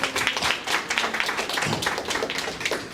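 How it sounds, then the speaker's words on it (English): An audience applauds the panelists at a digital marketing event for creatives, a crowd of hands clapping in a busy, continuous patter at moderate loudness, with no talking over it. "So big round of applause for our panelists today"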